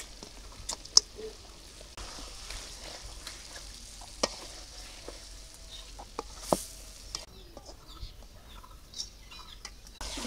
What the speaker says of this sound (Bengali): এখন আমি মাছ আর বেগুন একসাথে দিয়ে কিছুক্ষণের জন্য একটু কষাবো।